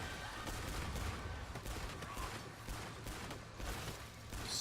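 Gunfire in the video game Killing Floor 2, a rapid, dense burst of shots playing quietly and continuously with no voices.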